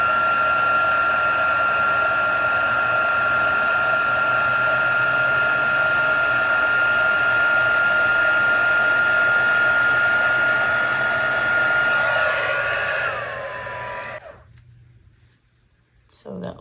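A heat tool blows steadily with a high whine as it heats paper for card making. The whirring stays loud and even for about thirteen seconds, then cuts off and winds down into near silence.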